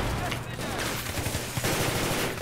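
Machine gun fire rattles in Battlefield 3 in rapid continuous bursts, loud and close, with brief pauses between volleys.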